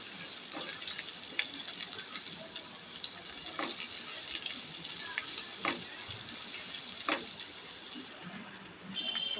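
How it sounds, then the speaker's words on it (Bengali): Chopped onion fries in hot oil, giving a quiet, continuous sizzle broken by a few sharp crackles and light utensil taps, with no talking. "পেঁয়াজটাকে এবার তেলের সাথে ভেজে নেব।"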